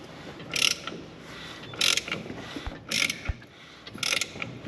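A Pro Mod race engine being turned over by hand from the top, heard as four short bursts of ratcheting, clicking mechanism noise spaced about a second apart, fairly faint with quiet pauses between.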